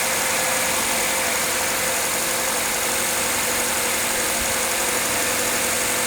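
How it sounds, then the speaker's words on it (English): A Mazda 2 engine, with its hydrogen system removed, idles steadily at close range, a constant mechanical hum with no voices. "Yeah, sounds very nicely, as pretty much as I would expect it to sound."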